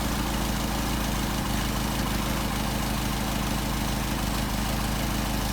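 A car engine idles steadily on a pair of freshly synchronized Solex 44PHH carburetors, a continuous low, even rumble held at close range with no pauses or talk.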